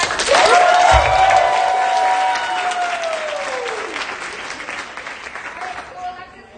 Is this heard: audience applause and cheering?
yes